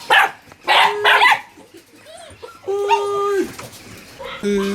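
Several small dogs bark in loud bursts early on, then whimper and whine with high tonal yips in the second half, close and clear, with human voices faintly in the background.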